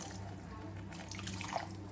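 Rice flour mixed with water poured into vegetables cooking in a pan, a brief liquid splash and trickle over a low steady hum, close by, with no talking.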